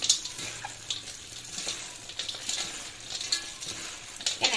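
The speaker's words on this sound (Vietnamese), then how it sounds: "Rồi các bạn trộn lên lần nữa." Crab-claw herb salad being tossed with seafood and peanuts in a bowl, soft wet rustling and scraping in uneven bursts, fairly close and moderately quiet.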